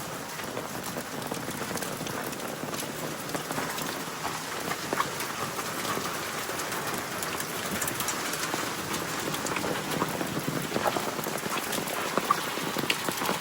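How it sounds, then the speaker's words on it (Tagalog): Heavy rain pours steadily on a farm, a dense hiss of drops pattering on surfaces nearby, with scattered louder splats and no pause. "Ang lakas ng ulan, oh."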